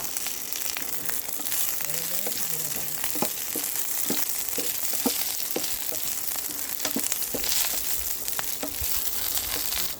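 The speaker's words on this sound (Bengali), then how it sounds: "এবং দিয়ে দিচ্ছি রসুন আদা" Garlic and ginger fry in a pan for a katora bean and taki fish mash, with a continuous close sizzle and regular sharp clicks of stirring throughout.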